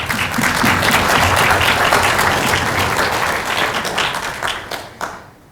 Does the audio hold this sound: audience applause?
yes